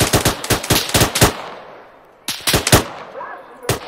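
Machine gun fire in Arma 3, two rapid bursts of loud, close shots with a short gap and echoing tail between them, then a single further shot at the end.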